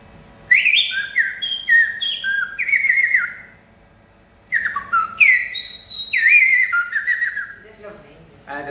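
A man whistles an imitation of a blackbird's song in two bursts of fluty, warbling phrases separated by a brief pause, loud and close, with no talking.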